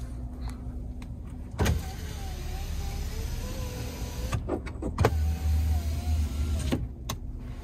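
Power window on a 2021 Chevrolet Silverado 1500 LTZ running, a steady electric motor whine lasting a few seconds between sharp clicks and thumps from the switch and cabin, recorded up close inside the truck.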